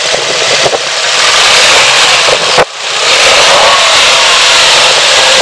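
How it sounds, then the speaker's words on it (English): A loud, close Kia Stinger GT twin-turbo V6 engine revving hard, a sustained roar with a brief dip and surge midway, filling the whole stretch. "Now that we've heard how the engine sounds"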